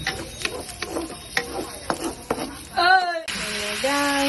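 Pork ribs for adobo fry in a pan with onion, garlic and ginger; close utensil scrapes and clatters sound over a soft sizzle, followed by a brief wavering tonal whine.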